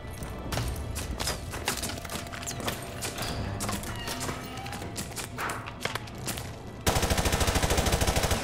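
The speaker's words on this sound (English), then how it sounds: "It's like one dude over here popping off shots at us." Gunshots ring out in Call of Duty Modern Warfare 2 Remastered: an irregular series of sharp cracks and bursts of automatic fire, ending in a loud, rapid sustained burst near the end.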